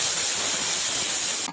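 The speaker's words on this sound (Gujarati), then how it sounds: "મીડિયમ ગેસ પર 2 થી 3 સીટી પડે ત્યાં સુધી રાખી દઈશું." Steam hisses loud and steady from a pressure cooker's whistle on a medium gas flame while carrot halwa cooks inside, a sustained broadband rush that cuts off abruptly at the end.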